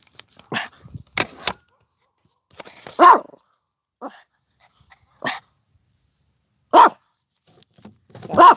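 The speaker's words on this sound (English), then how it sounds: "Sounds like the neighbor's dogs are getting excited." Several dogs barking excitedly outdoors near wooded land, sharp separate barks and yips coming in irregular bursts with pauses between them, at moderate distance and with no talking.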